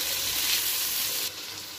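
Beans, carrot and peas fry in a pan for a few moments, giving a steady close sizzle of hissing and crackling that drops slightly in level near the end.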